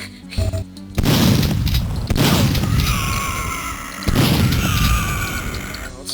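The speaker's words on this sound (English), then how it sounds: "Man, explosions really hurt." Explosions in Duke Nukem 3D, played with a Duke Nukem 64 mod, burst out as several heavy booms at roughly one- to two-second intervals, each followed by rumbling debris and mechanical clatter.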